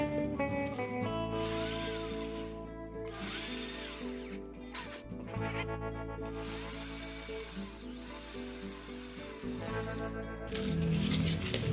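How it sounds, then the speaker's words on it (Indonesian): Power drill boring into a custom headlamp mount for a Honda Beat eSP scooter, with steady whirring bursts that stop and restart several times, close and fairly loud, with no talk. "kita bor dulu ya bro."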